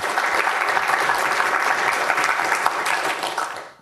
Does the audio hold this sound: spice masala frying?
no